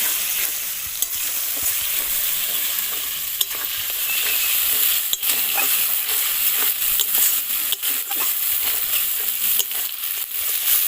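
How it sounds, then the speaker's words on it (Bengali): Spice paste of green and dried red chilli frying in oil, hissing bright sizzle with repeated sharp scraping strokes from stirring, close and constant. "ভালো করে এবার আমি মশলাটা একটু কষিয়ে নেব।"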